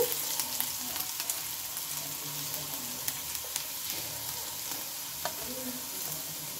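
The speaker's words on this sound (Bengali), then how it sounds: "আর এটার মধ্যে আমি দিয়ে নেব একটু রসুন কুচিটাকে দিয়ে নেব, দিয়ে নেবো আদা কুচি" Chopped garlic and ginger sizzle steadily in a little white cooking oil, a continuous close crackle with small scattered pops and occasional utensil stirring, no voices.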